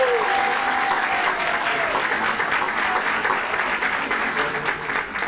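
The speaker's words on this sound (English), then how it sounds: "This is the most appropriate time right here to clap" A Women's History Month celebration audience breaks into applause, a thick sustained roar of clapping that holds steady and loud, easing slightly near the end, with a brief voice at the start.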